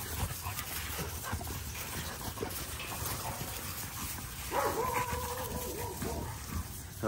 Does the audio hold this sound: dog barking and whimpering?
yes